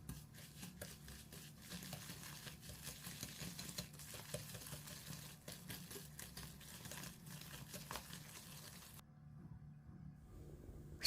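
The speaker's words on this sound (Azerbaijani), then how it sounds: "Qaba 200 qram kəsmik, 2 yumurta, 200 ml stəkanla 1 stəkan şəkər tozu, 1 paket vanil əlavə edib qarışdırıram" Cottage cheese, eggs, sugar and vanilla stirred in a bowl, a steady run of close, soft scraping and wet clicking strokes that stops near the end.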